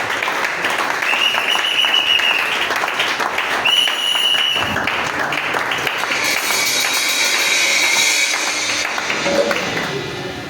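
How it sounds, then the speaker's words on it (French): A church congregation applauding during a Friday teaching service, steady dense clapping that carries on for several seconds, with cheers and some voices mixed in, filling a reverberant room. "Tu peux quand même acclamer pour la parole du Seigneur"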